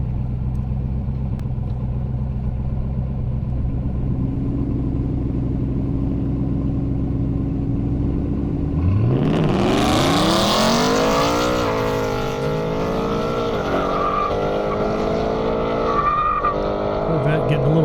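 Race cars, a Mustang GT and a C5 Corvette, at an airstrip event: engines idle and rev, then roar off the line with rising gear-change sweeps and a tire squeal, loud and close.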